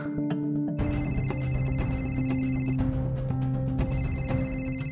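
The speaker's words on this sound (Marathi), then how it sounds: "थांबायचं फोन आहे." A telephone rings loudly in a steady repeating electronic ringtone that plays on without a break, with no talking over it.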